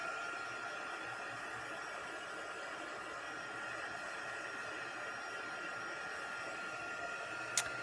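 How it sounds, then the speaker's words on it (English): Steady, continuous whoosh of an embossing heat tool blowing over freshly stamped and embossed cards, holding at an even level throughout with no talking and a brief click near the end. "I'm going to just heat these just for a moment. Just to help them dry a little bit."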